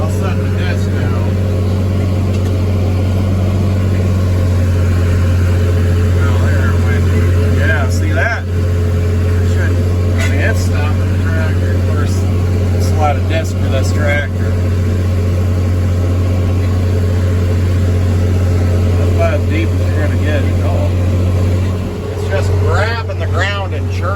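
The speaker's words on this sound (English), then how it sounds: "I'll set the disc down." A tractor drags a disc harrow through very hard, sandy ground while preparing a hay seedbed. Its engine holds a steady, loud, low drone throughout, with occasional clunks and jolts, and voices talk over it.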